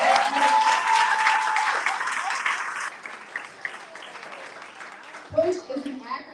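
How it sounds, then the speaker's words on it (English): A crowd at a Busboys and Poets arts coalition event breaks into applause, loud and dense at first, then thinning out into scattered claps, with voices heard over it. "Let's just go ahead and give a round of applause."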